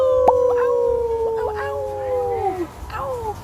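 A person imitates a wolf howl with long rising and falling wavering cries, several overlapping voices trailing downward, under a low background rumble.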